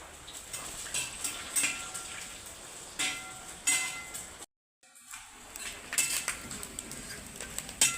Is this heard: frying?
yes